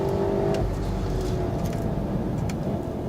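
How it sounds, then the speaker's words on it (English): A Volkswagen Golf R engine hums and revs from inside the car, a steady drone that rises and shifts in pitch as it accelerates. "It's got a lovely engine note, the Golf R."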